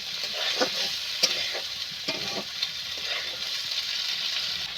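Chickpeas for vegetarian ghugni with green chillies are stirred and sautéed in a pan, giving a soft, steady sizzle broken by light scraping strokes of the spoon.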